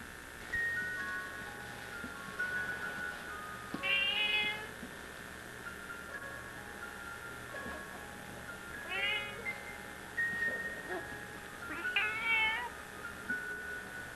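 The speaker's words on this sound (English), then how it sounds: "It's a kitty cat." A cat gives several short meows at intervals, fairly faint and close, over a steady electrical hum and room noise, with no one talking.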